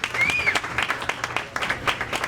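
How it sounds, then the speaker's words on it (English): Audience at a county district candidates' public forum applauding, a dense patter of clapping from a moderate crowd that carries on for a couple of seconds, fairly close, with a faint voice over it. "give Victor a round of applause for putting this together"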